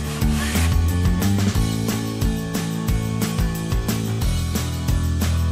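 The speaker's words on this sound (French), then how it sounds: "Attendez que la pâte durcisse avant de passer avec le couteau ou le bloc à poncer pour éliminer les saillies." A sanding block rubs over dried drywall joint compound on a plasterboard wall repair, a steady, close, rasping back-and-forth scrape that continues without pause and with no voices.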